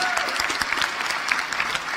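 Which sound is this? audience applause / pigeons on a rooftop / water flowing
audience applause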